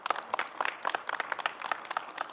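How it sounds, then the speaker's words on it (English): An audience at a healthspan summit in Riyadh gives a burst of applause, rapid overlapping claps heard at moderate distance and fairly faint, without talk. "Just give me big applause."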